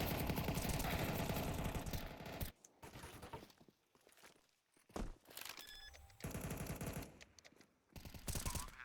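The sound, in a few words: gunshots in video game Counter-Strike 2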